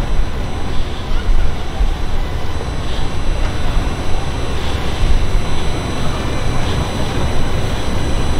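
A police motorcycle idles steadily at a training demonstration, giving a continuous, even engine rumble mixed with broad background noise and no clear revs.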